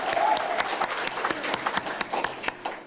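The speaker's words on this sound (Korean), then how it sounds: "박수를 보내주십시오" Audience applause at a Busan talk concert about an independence movement memorial hall, a steady wash of clapping with a few sharper claps standing out, moderately loud and fairly close, with some faint voices mixed in.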